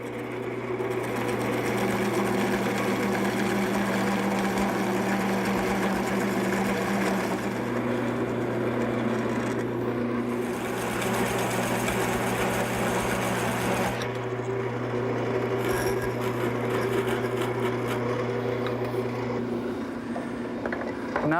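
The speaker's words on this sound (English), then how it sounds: "now I'm going to turn to my parting tool and turn each shoulder section to the right diameter." Wood lathe spinning steadily while a parting tool cuts shoulder sections, a continuous mechanical hum with a whirring, scraping cut that shifts in tone partway through, close and moderately loud, no talking.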